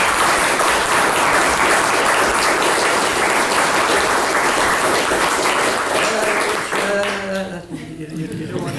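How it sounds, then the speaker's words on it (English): Audience at a festival panel discussion on overcoming sectarianism giving a loud, dense round of applause that sustains for several seconds before thinning out and fading near the end. "Could I just ask for a quick round of applause for these four speakers?"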